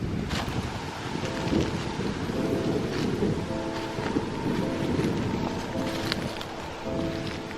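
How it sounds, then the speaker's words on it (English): Strong wind buffets the microphone in a constant low rumble and roar at an abandoned graveyard, steady throughout with no voices. "It was a really windy day, so I apologize if the sound's a little bit off in this video."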